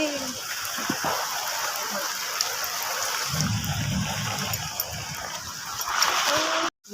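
Steady rain falls during a nor'wester storm with a constant hiss and patter, a low rushing swell in the middle, and faint voices murmuring underneath.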